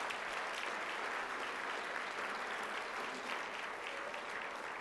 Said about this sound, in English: I would like a nice round of applause for this terrific wait staff that is going to be taking care of all of you tonight.